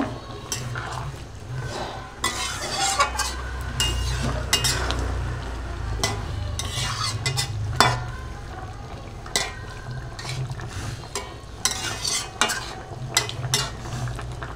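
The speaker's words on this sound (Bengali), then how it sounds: "এখন আমি নাড়িয়ে চাড়িয়ে নিই।" Spoon stirring an egg and soybean curry in a pan, soft scraping and wet sloshing over a low sizzle, with occasional louder clinks against the pan.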